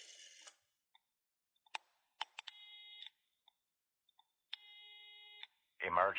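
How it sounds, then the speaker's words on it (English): Phone keypad beeps and tones as an emergency call to the police is dialed, with short isolated beeps followed by two steady ringing tones in a quiet room, ending with a burst of noise. "Simon used Gerald's phone to call the police"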